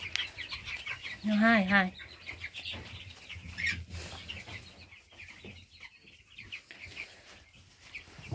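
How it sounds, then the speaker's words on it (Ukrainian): A young cockerel in a coop full of young roosters lets out a loud, close crow, followed by scattered clucking and rustling from the flock while a person speaks briefly. "Бачите, скільки півників? Дуже багато."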